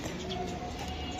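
A racer pigeon gives a soft, low coo close by, barely above a steady background hum.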